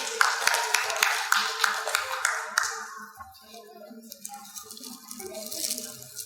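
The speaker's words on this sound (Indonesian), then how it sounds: "Tepuk tangan untuk Mas Gani." Applause from an audience at a community Ramadan break-the-fast gathering, greeting a child after a quiz game. Dense clapping for about three seconds, then fading into quieter room sound and voices.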